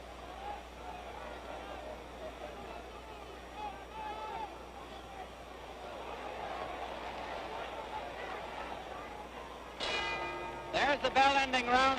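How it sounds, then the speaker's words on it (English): A boxing bell ends round 3 of a classic heavyweight fight between Floyd Patterson and George Chuvalo, ringing out in a quick run of clangs near the end over a murmuring arena crowd and commentary. "There's the bell ending round 3."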